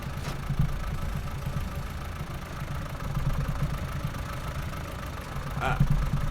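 A tractor engine idles in a farming survival video game, a steady low mechanical rumble that runs continuously and evenly, swelling slightly near the end.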